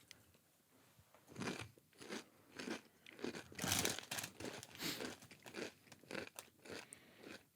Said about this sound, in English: You'll have to add a lot of this chewing